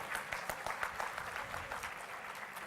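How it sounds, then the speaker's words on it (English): At a health conference hall session, an audience gives a moderate round of applause, a dense, even patter of many hands heard from a slight distance with a soft roomy background. "Can we have a huge round of applause, please?"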